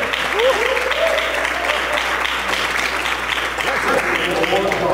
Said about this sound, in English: go ahead and clap your hands unto the Lord one more time